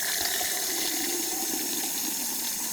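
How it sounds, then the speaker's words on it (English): Water runs steadily from a tap through a water filter set up for washing a car, a continuous close gushing hiss at a trimmed, moderate flow with no voices. "I've trimmed the water down because you don't want it flowing too fast."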